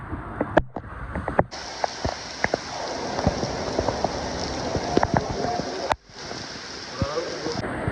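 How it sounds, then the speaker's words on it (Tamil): Heavy rain pours steadily at a railway station on the Shoranur to Nilambur line, a dense continuous hiss with close drips and splashes, broken by a few sharp knocks and brief gaps. "செம மழை வெளுத்து வாங்குதுங்க"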